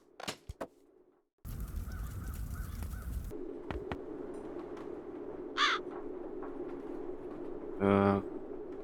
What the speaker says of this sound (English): Вот вороны у него тут сидят.